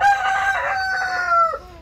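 A Whiting True Blue hen voices a loud, continuous tonal call close by, a drawn-out squawking cluck that wavers and then drops off near the end, with no talking.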